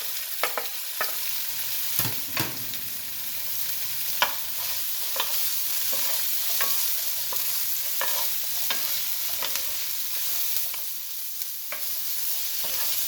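Vegetables stir-frying in a pan for noodles with ginger and garlic, a steady close sizzle broken by repeated sharp scraping stirs at an irregular rhythm, no voices.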